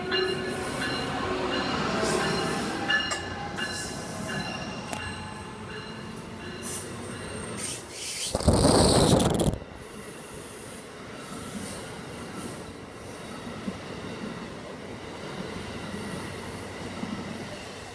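Amtrak train 111 departing BWI station, a steady rumble of rolling railcars with clicking wheels, a loud burst of squealing or air hiss midway, then continued rolling noise fading slightly; no voices.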